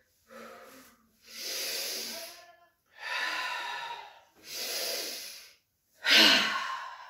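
Deep yoga breathing during a sun salutation session: four long, hissing breaths in and out, evenly spaced with short pauses between, close and breathy, ending with a sharper, stronger exhale.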